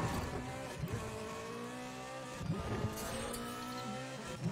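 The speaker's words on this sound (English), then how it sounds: "Oh, nice! That was a good drift." Car drifting through a corner in the racing game Need for Speed The Run, with a steady engine drone and tire squeal that rises in two swells, loud and continuous.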